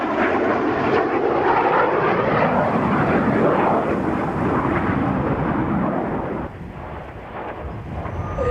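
A loud, broad jet roar from the Red Arrows synchro pair flying double rolls at an air display. It rumbles steadily, then eases somewhat toward the end.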